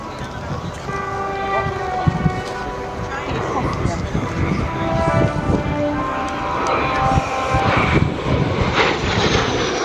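A military jet flying a display at the Royal International Air Tattoo 2023 airshow, a loud, continuous engine roar that fills the whole stretch and swells slightly toward the end.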